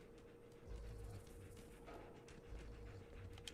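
Dogmeat, the companion dog in a video game, pants in quick repeated breaths over a low steady background hum, with a few soft whimper-like bursts and no talking.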